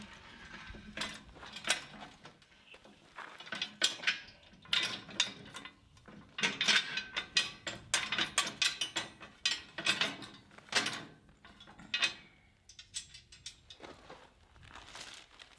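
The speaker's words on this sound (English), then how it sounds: "I'm going to have to raise the saw head just a little bit to get these bolts through." A Woodland Mills HM130 Max sawmill head being cranked upward on a custom stand, giving a run of uneven metallic clicks, rattles and ratcheting clunks in bursts, close and moderately loud with no talk.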